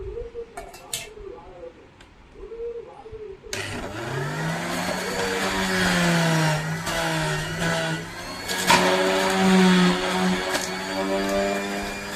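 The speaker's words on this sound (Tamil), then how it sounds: "பீட்ரூட் இப்போ போட்டு நம்ம அரைக்க போகிறோம்" A juicer-blender grinds beetroot for healthy juice, its motor starting abruptly and running as a loud, steady whine with shifting pitch as the chunks break down, continuing to the end.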